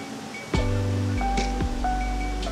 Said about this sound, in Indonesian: Jadi air terjun Sigala-Gala memiliki tinggi sekitar 40 meter.